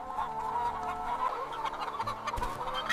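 Roosters and hens cluck and chatter in a farm flock, several birds calling over one another with short, uneven clucks at moderate distance.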